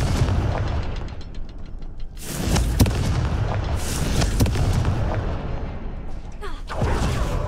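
Confringo fire spell explosions in the Hogwarts Legacy video game: several loud, broad booming bursts in close succession over a constant rumbling background, each blast sharp at onset and decaying quickly.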